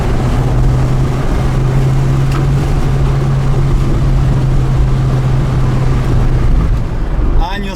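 A Porsche Carrera GT fitted with an FVD exhaust drives nearby, a loud steady engine drone with a strong low exhaust tone running continuously, and a voice briefly heard near the end.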